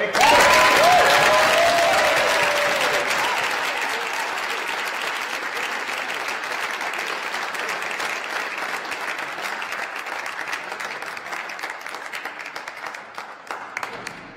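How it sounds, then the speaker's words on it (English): An audience at a hardball doubles squash final breaks into sustained applause, loud at first and then settling into steady clapping that slowly thins out over the whole stretch. "we just wanted to give him a round of applause"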